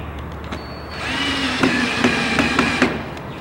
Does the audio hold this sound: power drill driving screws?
yes